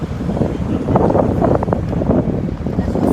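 Steady spring wind buffeting the microphone outdoors on a Tokyo city street, a continuous low rumble with gusts swelling and easing, loud and close throughout.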